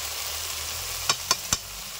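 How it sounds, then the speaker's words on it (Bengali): Ground cumin, coriander, dried chilli powder, salt and turmeric fry in oil with tomato purée over medium heat, a steady sizzle with three quick scraping stirs near the end. "মিডিয়াম আঁচে মশলা ভালো করে কষে নেব"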